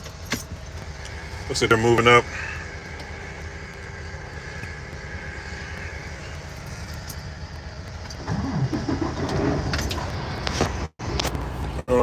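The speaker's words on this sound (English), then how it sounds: "I got to start the truck again" A truck engine turns over and idles after a burst of jangling keys, with someone talking over the steady rumble and a louder engine surge near the end.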